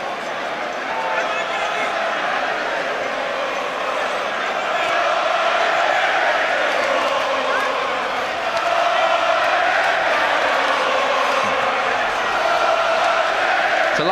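A boxing crowd stands and cheers at a heavyweight fight, a dense, continuous roar of voices that swells partway through. Commentators talk over it.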